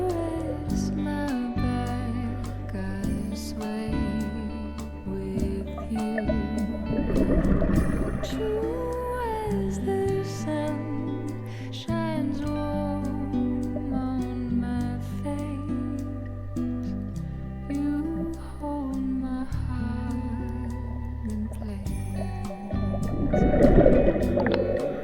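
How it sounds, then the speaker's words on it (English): A boat's low, steady engine drone and propeller hum throbs underwater for a long stretch, heard from 100 feet deep at the BP-25 wreck off Myrtle Beach, with gurgling bubbles and a swell in loudness near the end. "you can hear the boat passing by, even though I'm in 100 feet of water."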